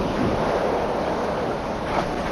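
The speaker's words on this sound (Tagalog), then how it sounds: "Alas 6 ng gabi naman, nang rumaragasa na ang alon na dulot ng storm surge." Storm surge waves crash against houses in Barangay San Roque, making a loud, dense, continuous roar of surging water with gusty rumble and no voices.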